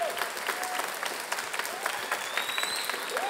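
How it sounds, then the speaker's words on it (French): An audience at a regional final of a 180-second thesis presentation contest claps steadily and warmly in a hall, a dense, even round of applause heard on its own. "On peut encore vous applaudir"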